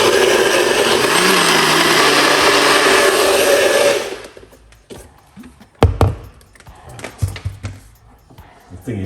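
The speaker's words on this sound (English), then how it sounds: "this blender is not a silent blender" A loud kitchen blender whirs steadily for about four seconds while blending a colon cleanse drink, then stops, followed by faint clunks and handling noises.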